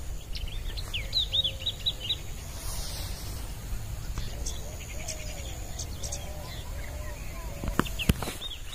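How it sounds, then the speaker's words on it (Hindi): Birds sing in a forest: several high, thin chirps and warbling calls at moderate distance over a steady hiss of insects, with a few sharp clicks near the end. "इधर जब भी आते हैं जंगल तरफ, मतलब पंछी का आवाज सुनने में बहुत ही अच्छा लगता है"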